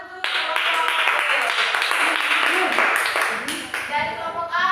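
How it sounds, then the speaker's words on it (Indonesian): Students in a classroom applaud group B, a close burst of rhythmic clapping that holds steady for several seconds before trailing off, with voices mixed in. "Beri tepuk tangan untuk kelompok B"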